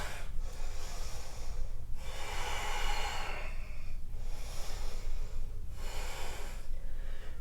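Deep breathing during a vinyasa yoga flow, a few slow, close inhales and exhales in a long, even rhythm.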